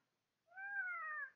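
A cat gives a single drawn-out meow, quiet but distinct, rising and then falling in pitch against near silence.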